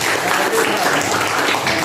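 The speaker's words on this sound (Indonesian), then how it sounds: "Tepuk tangan untuk Anom" Classroom of students clapping for a classmate during an Indonesian lesson, a brief burst of many hands applauding at close range, mixed with some voices.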